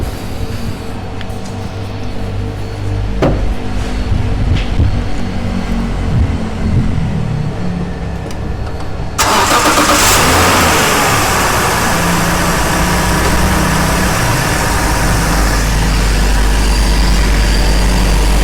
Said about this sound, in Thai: เดี๋ยวลอง ฟังเสียงเครื่องกันสักนิดหนึ่งนะครับ